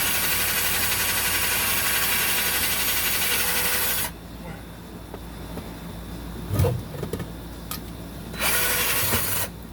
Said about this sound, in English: I'm kind of just grinding away at it with the drill